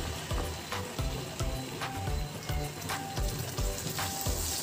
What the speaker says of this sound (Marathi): साधारण मिनिटभर आपण ही तेलामध्ये व बटरमध्ये अशा पद्धतीने परतून घेतो